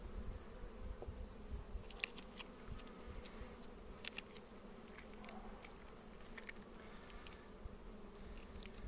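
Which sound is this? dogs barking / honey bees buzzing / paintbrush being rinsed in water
honey bees buzzing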